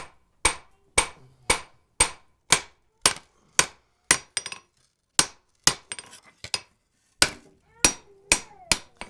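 A hammer strikes wrought iron on an anvil while the back plate of a door bolt is forged thin, sharp ringing blows landing in a steady rhythm, about twenty in all, loud and close with short pauses between.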